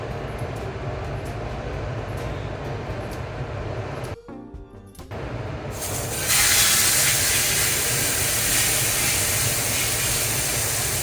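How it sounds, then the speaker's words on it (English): Olive oil poured into an extremely hot pan: a steady low rumble, a brief dip, then a loud, sustained hiss of sizzling that bursts in and holds to the end. "I'm going to add some olive oil, and I'm going to have to work very, very quickly because this pan is so hot."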